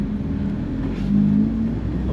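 A Honda Civic FN2 Type R engine at the Nürburgring holds a steady loud drone that swells slightly midway, heard from inside the car with no voices.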